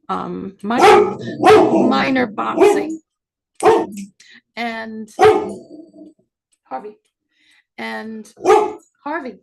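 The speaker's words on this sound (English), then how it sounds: "Sorry about that. That's my dog." A dog barks in short bursts in a home, the barks interleaved with someone speaking, loud and close, several separate yaps scattered across the passage.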